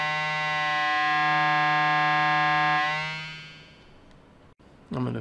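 An Arturia MicroFreak synthesizer drones a steady harmonic tone with its cycling envelope set to a different time scale, the pitch wavering and sweeping near the end before fading, followed by a short noisy burst.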